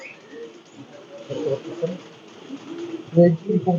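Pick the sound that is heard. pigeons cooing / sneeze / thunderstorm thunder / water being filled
pigeons cooing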